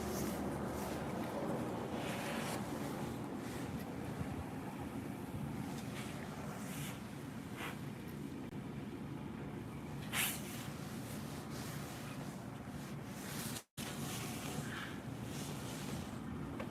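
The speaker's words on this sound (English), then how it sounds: "You hear that fucking wind, bro?" Strong outdoor wind roars steadily into the microphone for the whole stretch, a dense rushing buffet with a few sharper gusts and one brief dropout near the end, no talking.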